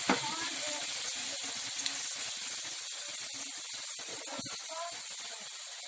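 A mix of soy sauce, water and brown sugar sizzles in a pan for chao pan rice with beef loaf, a steady close hiss with faint voice fragments in the background.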